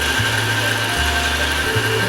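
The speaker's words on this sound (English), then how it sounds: "we're going to go ahead and start grinding the beef off" A KitchenAid stand mixer with a meat grinder attachment grinds frozen beef chuck, giving a steady close motor drone with a ratcheting, gear-like churn that wavers slightly as the meat feeds through.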